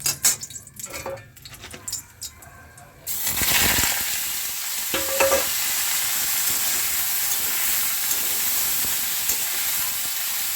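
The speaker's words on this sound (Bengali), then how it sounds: "দিয়ে এবার বেগুন আর পেঁয়াজটা ভালোভাবে ভেজে নেব।" After a few seconds of clattering, a loud steady sizzle of eggplant and onion frying in hot oil takes over and continues, with occasional stirring clinks.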